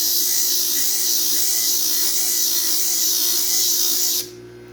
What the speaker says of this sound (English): So we'll start out grinding here.